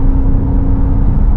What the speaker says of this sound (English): There is the exhaust note that you can turn off right here.